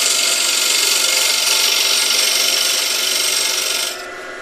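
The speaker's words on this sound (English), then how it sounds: "I'll just remove the bulk of it with the peeling cut" Wood lathe peeling cut taking off the bulk of the wood on a sphere box blank: loud, steady, close hissing shear of the tool against spinning wood that drops off sharply near the end.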